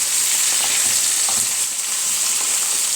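Sausage in tomato sauce stirred in a frying pan, a loud continuous sizzle with soft scraping of the spoon running throughout, no talking.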